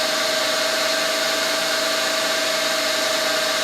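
A 3 mm reamer runs at low speed through a 2.8 mm drilled hole. It makes a steady, loud machine whine with a constant tone, heard close up and with no talking.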